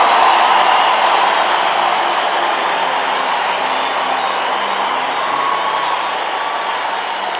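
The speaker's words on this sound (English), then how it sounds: "Oh, clap hands for Jesus again." A church congregation claps and cheers for Jesus, a dense, loud, steady wash of many hands applauding together with crowd noise, sustained throughout and slowly tapering slightly.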